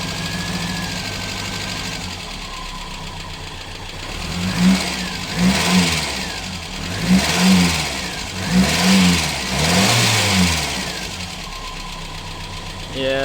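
A 1980 Mk 1 Ford Fiesta 1117cc engine runs cold with the choke off, idling steadily and then blipped up in a series of quick revs that rise and fall, loud and close, with a voice briefly over it.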